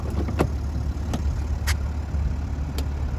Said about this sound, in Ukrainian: Працює двигун дуже чітко, без нарікань.